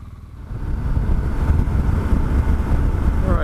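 A motorcycle cruising along a road in the Florida Everglades, with a steady low engine drone under heavy buffeting wind rush throughout.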